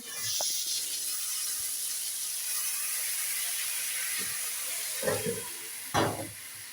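Broth and lemon juice hit a hot pan of chicken scaloppine al limone, giving a steady, fairly loud hiss that runs throughout. A couple of soft clunks of a utensil come near the end.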